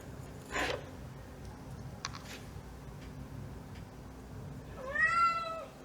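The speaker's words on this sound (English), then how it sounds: "And my cat is complaining." A pet cat gives a single close, clear meow near the end, indoors in a model-building studio, after a few faint ticks and soft knocks against a quiet room background.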